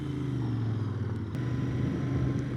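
Royal Enfield Interceptor 650 (2020) motorcycle cruising in sixth gear at about 60, a steady low engine drone with a faint rise in pitch, heard alone without voices.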